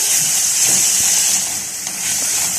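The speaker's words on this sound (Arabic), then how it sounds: "هحط شويه زيت صغيرين واحمر البصله" Onion sizzles in a small amount of oil while cooking green beans, giving a steady, close, bright frying hiss with faint crackles throughout.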